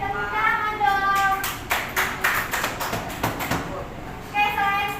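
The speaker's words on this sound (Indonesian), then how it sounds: "Oke, tepuk tangan dong." A classroom of students claps in a teacher-led round of applause, a burst of uneven hand claps that rises and then breaks into scattered taps, with voices talking around it.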